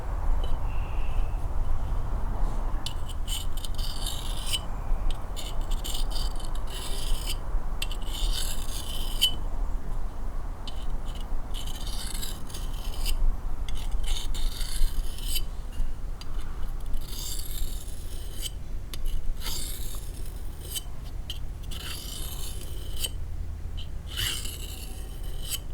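A knife is sharpened on a tiny wallet-sized diamond plate and strop with repeated short, gritty rasping strokes in an uneven rhythm, close and fairly quiet over faint background noise.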